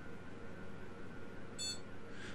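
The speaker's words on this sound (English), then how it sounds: "There's the beep." A server running Xpenology gives a single short electronic beep as it reboots. The beep is faint and comes over a steady low hum of fans and machinery.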